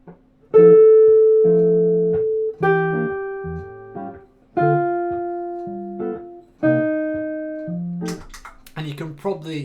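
Guide tone line over the first four bars of a jazz blues in F, played as four sustained clean instrumental phrases with short accompaniment stabs, ending with a brief voice.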